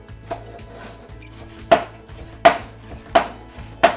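Knife chopping food on a cutting board, with five sharp, evenly spaced knocks close by and little else heard.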